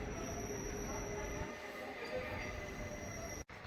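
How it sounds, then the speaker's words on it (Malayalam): The Ernakulam–Kannur Intercity train pulls away from Parappanangadi station after a one-minute halt, heard from inside as a steady rumbling roar with wheel squeal and a brief dropout near the end. "1 മിനിറ്റിന് ഹോൾട്ടിന് ശേഷം ട്രെയിൻ എടുത്തിരിക്കുകയാണ്"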